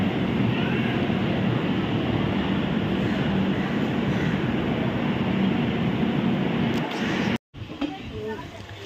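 A passenger train leaving Chennai Egmore rumbles with a loud, continuous broadband roar of wheels and carriage noise, briefly cutting out near the end before resuming more quietly.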